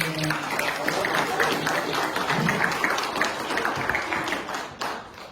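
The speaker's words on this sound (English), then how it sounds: "Let's give them a round of applause." Audience at a ceremony honoring military veterans applauds with steady, dense clapping throughout, with some voices mixed in beneath it, fading toward the end.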